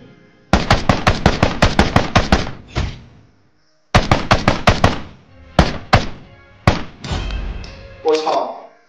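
Automatic gunfire in a Peace Elite mobile battle royale match during an esports tournament: several rapid bursts of sharp, punchy shots, a short pause, then more bursts and a few isolated single cracks, loud and close.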